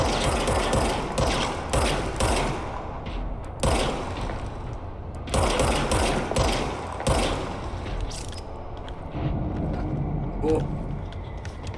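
Gunfire from a newly picked-up gun in a video game, heard as bursts of broadband cracks spread across the clip and repeating every second or two amid steady game noise, with someone talking over it.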